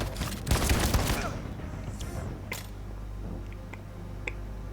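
Gunfire in the video game Detroit: Become Human: a sharp, dense burst of shots cracks out near the start, then fades into quieter scattered clicks and thuds.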